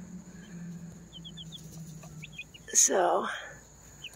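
Four-week-old chicks out in summer weather give soft peeps and clucks, then one louder squawking call. A person says a word under the birds.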